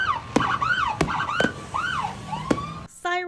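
Wailing emergency vehicle sirens sweep up and down over a 4th of July weekend marked by illegal fireworks and building fires, joined by sharp bangs and a steady alarm-like tone near the end.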